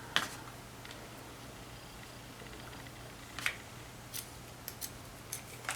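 Scissors snipping the ends off twine for a bow on a tea light card, a few quiet, sparse cuts spaced apart against a faint background hum.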